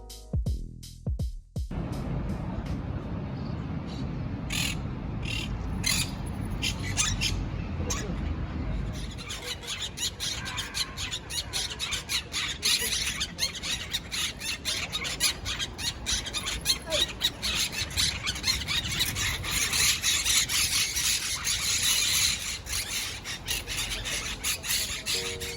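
Parrots squawking in Ciutadella Park, Barcelona, with shrill, repeated screeches and squeals rising over continuous outdoor ambience, growing busier and louder through the second half.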